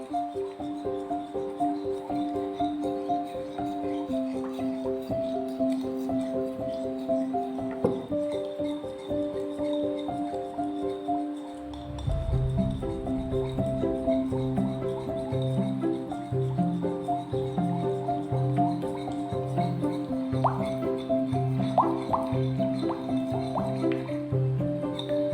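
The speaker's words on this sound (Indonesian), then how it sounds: "Ketika diaduk dengan cara cepat, secara cepat terasa mengeras dan mengental" A dilatant suspension that thickens and hardens under fast stirring gets churned quickly in a container, making wet squishing, dripping and sloshing sounds that grow heavier and more rhythmic partway through, close up with no talk.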